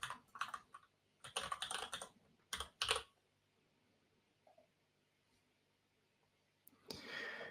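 Fingers tap out a password on a computer keyboard in two short bursts of quick, light key clicks, then a pause, then a final brief flurry, close up and quiet.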